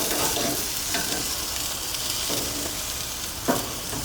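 Large-cut squash pieces sizzling on a grill grate, a loud, steady frying hiss with occasional short crackles and pops, close and continuous with no talk.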